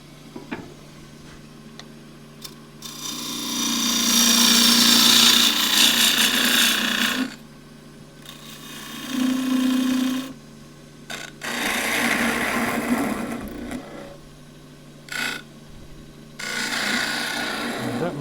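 A wood lathe turns a tenon for a glasses stand as a tool scrapes and cuts the spinning wood in several long, rasping passes with brief pauses between, close and fairly loud, with no talking.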